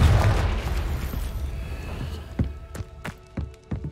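A fiery spell blast in the Hogwarts Legacy game: a heavy booming burst up front that rumbles and fades, followed by scattered footsteps and small pops.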